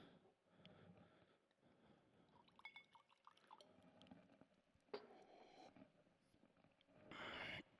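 Water being poured into a glass for a drink indoors, faint trickling and small clinks followed by a brief steady pour near the end, quiet and close.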